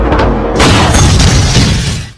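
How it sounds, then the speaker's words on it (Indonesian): A loud, sudden blast erupts with a harsh burst of noise and debris-like crackle, then rumbles briefly and fades. "Tiba-tiba, Yufa menembak tabung pemadam kebakaran hingga menimbulkan ledakan."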